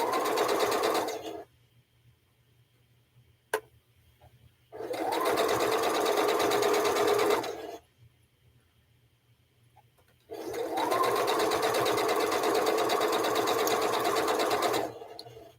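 Sewing machine stitching three-strip quilt sashing, three bursts of rapid mechanical whirring separated by quiet pauses, close and clear, with a brief click in one gap.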